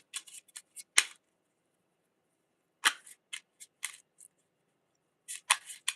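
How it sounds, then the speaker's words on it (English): A tarot card deck being shuffled during a live reading: crisp riffling bursts, some short and clustered, others longer, separated by quiet gaps, close and alone. "let me shuffle until they tell me to stop"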